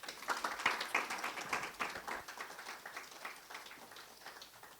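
Scattered, fairly faint audience clapping welcoming Chief Moomen at a creative entrepreneurship forum, a brief burst that thins out and fades over a few seconds.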